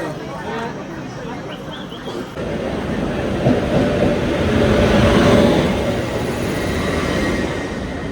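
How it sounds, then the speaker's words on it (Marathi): A train rumbles into platform 7 at a Mumbai station, its heavy rolling noise swelling loud and close, with wheels grinding over steady background clatter and some talk. "मित्रांनो ट्रेन आलेली आहे."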